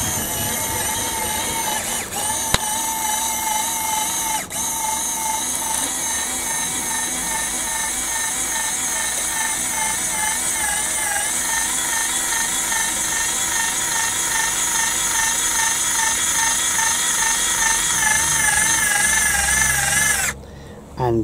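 A small electric motor drives the tipping mechanism of a Bruder RC trailer bed, a steady high whine with a gear-like buzz running close and continuous for about twenty seconds before cutting off abruptly.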